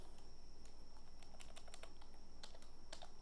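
A computer keyboard clicks in quick, irregular bursts of keystrokes as a project name is typed, quiet and close over a steady low hum.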